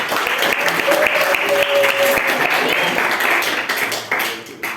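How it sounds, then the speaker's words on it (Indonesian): Classroom applause for a student group in an economics lesson, a loud, dense burst of many hands clapping together that carries on for several seconds before thinning out near the end. "tepuk tangan untuk kelompok 4."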